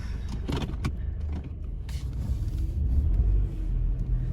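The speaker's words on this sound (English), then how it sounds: "we're gonna go ahead and just take it for a little test drive and to see how it rolls" A Honda Accord fitted with a JDM K24 engine rumbles low and steady as a test drive begins, with a few light clicks and rattles early on and the engine noise swelling slightly toward the end.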